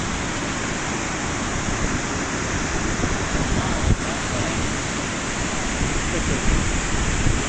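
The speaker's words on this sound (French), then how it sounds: "Sous la pluie." Steady rain falling near waterfalls on a high plateau, a dense broadband hiss that stays even and unbroken throughout, loud and enveloping with no voices.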